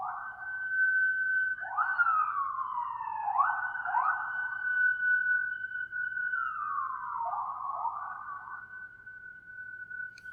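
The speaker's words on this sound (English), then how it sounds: "as another ambulance rolls down 59th Street" An ambulance siren wails along a city street, its steady tone broken by repeated falling yelps, fairly loud and alone, with a low hum beneath.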